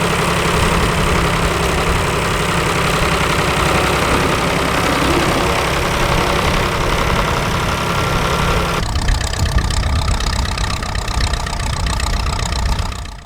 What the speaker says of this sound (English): This tidy 880 Selectomatic is going quite well.